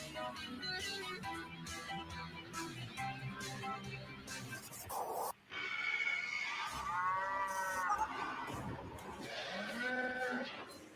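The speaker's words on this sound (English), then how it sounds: "A terrifying cow will hunt you if you don't." Loud, drawn-out cow moos from a video game trailer, several bellowing calls over about eleven seconds, set against a dense musical score with no talking.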